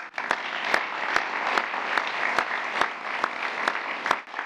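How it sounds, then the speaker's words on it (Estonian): Steady crowd applause at a sports event honouring a football coach, a dense even wash of clapping punctuated by regular sharp thumps. "Aplaus."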